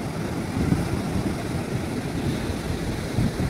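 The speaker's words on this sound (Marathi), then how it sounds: "हे बघू शकता तुम्ही, ह्या लाटा आहे" Steady rushing roar of ocean surf at Juhu Beach, Mumbai, with wind buffeting the microphone, a continuous wash of noise without distinct breaks.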